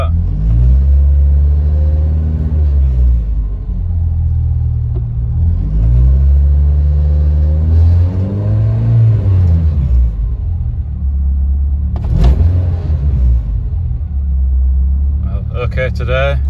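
Ford Fiesta Zetec S with a stalling fault on startup, after a coolant sensor change: the engine idles loudly up close and is revved several times, with rising and falling pitch, while a person talks over it.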